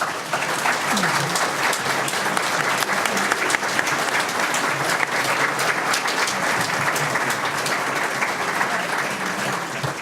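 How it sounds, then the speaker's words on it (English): Sustained applause from the audience at a school board candidate forum, a steady dense roar of many hands clapping for the full stretch, fairly close and even in loudness, with faint crowd murmur underneath. "Let's give our candidates a round of applause"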